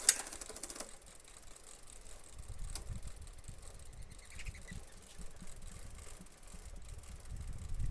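A bicycle chain, freshly degreased, is spun to clear out grease and grime, giving a steady ratcheting freewheel clicking with a low mechanical rumble, close and continuous, with no talking.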